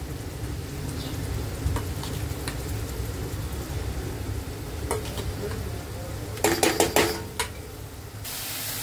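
Masala paste of ginger, garlic, green chilli, tomato and onion frying in oil in a pan, a steady crackling sizzle with scattered spoon taps and a brief cluster of sharp scraping strikes near the end; no one speaks.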